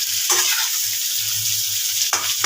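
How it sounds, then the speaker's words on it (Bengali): Sliced ridge gourd with a little turmeric and salt frying lightly in a pan, a steady close hiss of oil with a couple of stirring bursts, no talking. "ঝিঙেগুলোকে একটু ভাজতে হবে হালকা করে"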